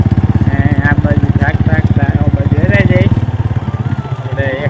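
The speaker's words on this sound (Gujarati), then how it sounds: "ચાલે છે બાઇક હાલે" A motorcycle engine runs steadily close by in a village field with a throbbing, even putter while people talk over it.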